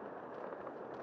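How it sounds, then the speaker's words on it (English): Fireworks going off at a New Year celebration at the Brandenburg Gate, heard as a dense, continuous crackling roar of bursts blending together, loud and steady through the whole moment with no speech. "a dazzling fireworks display to ring in the new year"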